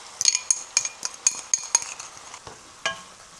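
Pork steak sizzles in a pan as garlic goes in, with a quick run of utensil clinks and scrapes against the pan over the steady frying hiss, then one louder scrape near the end.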